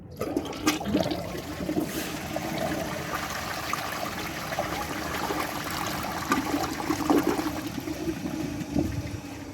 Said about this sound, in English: let's just give it a flush and see how it performs